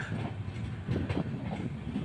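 Mysuru–Shirdi Express train arriving at Chitradurga station, a steady low rumble of rolling railcars with faint wheel clatter, continuous and fairly distant, with no talk.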